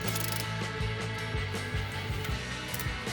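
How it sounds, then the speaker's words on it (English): A ratchet wrench tightens the nuts on the battery hold-down frame of a 2018-2024 GMC Terrain, producing rapid repeated clicking pawl strokes, close and fairly loud, with no talking. "We'll tighten both the nuts"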